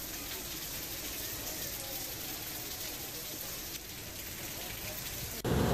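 Steady, dense rain pouring down, a continuous hiss of drops hitting surfaces, loud and unbroken, with a brief louder burst at the very end.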